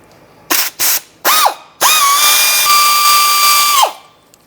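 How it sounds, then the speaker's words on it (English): Power tool with a 14mm socket loosening the two brake caliper bolts on a 2005-2009 Subaru Outback: a few short ratcheting bursts, then a sustained close, loud whirring run with a steady pitch that winds down. "Using a 14mm socket, we want to go ahead and remove the 2 caliper bolts."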